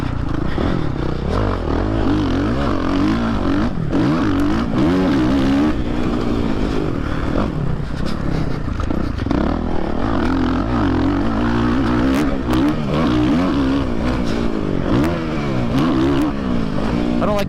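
Suzuki RMZ450 motocross bike ridden around a tight track, its engine revving and bogging continuously at close range with constant pitch swings through turns and jumps, a rider's voice talking over it.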